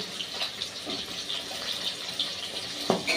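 Water poured into a bottle gourd and pumpkin curry cooking in a pan, a continuous splashing gush close by, with a few brief clinks over it.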